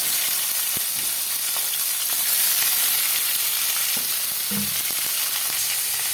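Onion and garlic frying in oil for a fish curry, a loud, steady bright sizzle throughout with occasional soft stirring knocks, no talking.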